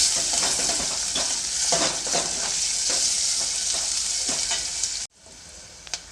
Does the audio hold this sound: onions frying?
yes